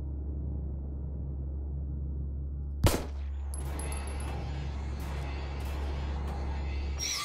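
A single sharp gunshot goes off in the survival-horror video game SIGNALIS, cutting through a steady low droning hum, followed by faint clicks and rattles.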